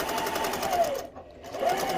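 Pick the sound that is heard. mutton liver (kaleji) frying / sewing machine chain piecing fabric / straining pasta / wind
sewing machine chain piecing fabric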